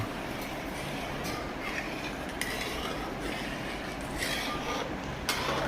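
Beaten eggs being stirred slowly into milk in a bowl, a steady soft swishing with occasional light spoon clinks against the side.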